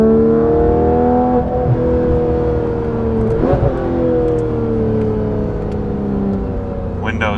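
A Porsche GT3 RS fitted with Dundon race headers and a full exhaust revs steadily, its loud engine note rising and falling through the clip with a brief blip in the middle and no talk over it.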